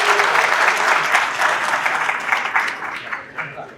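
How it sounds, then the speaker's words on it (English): An audience at an awards reception gives a big round of applause, loud and dense at first, then thinning into scattered claps near the end. "How about a big round of applause for Fitchburg State?"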